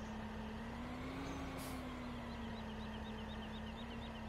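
Tractor engine revving high in Farming Simulator 2017 on PC, a steady droning tone that rises slightly then holds, with a brief hiss burst midway and faint chirps behind.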